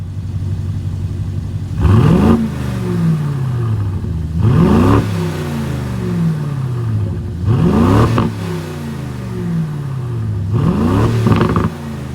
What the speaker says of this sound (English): with this twin turbo V8, we got to hear how this baby sounds